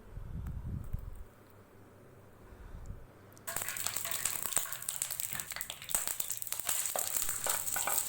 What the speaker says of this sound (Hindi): सबसे पहले पैन में आधा कप ऑयल डालेंगे।